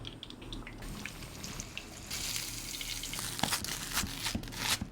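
Breaded chicken breast, coated in flour, egg and breadcrumbs, sizzles and crackles steadily in hot oil, with a dense hiss that swells louder partway through and occasional sharper pops, no voices present.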